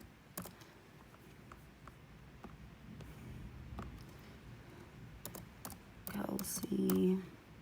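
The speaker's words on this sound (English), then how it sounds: "then I type in" Quiet keystrokes patter on a computer keyboard in irregular bursts, soft and close, while a voice speaks faintly over them near the end.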